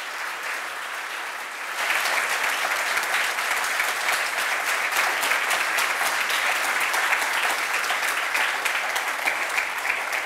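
A studio audience at a live sports talk show bursts into loud, sustained applause after a short quiet lead-in, the dense clapping holding steady to the end.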